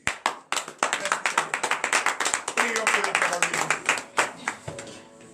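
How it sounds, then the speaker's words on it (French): Church congregation claps in quick, uneven bursts during a morning prayer service, individual hand claps distinct and close, with voices calling out over the clapping. "Veuillez vous lever et donner de vives acclamations au Seigneur Jésus."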